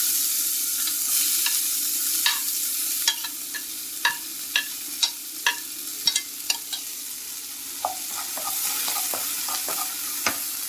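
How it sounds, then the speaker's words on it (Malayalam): Onion frying in hot oil with garlic in a pan gives a steady sizzle, broken by a series of sharp spatula taps and scrapes against the pan as it is stirred. "അതൊന്ന് ചൂടാവുമ്പോഴത്തേക്ക് നമുക്ക് ഒനിയൻ ഇട്ട് കൊടുക്കാം."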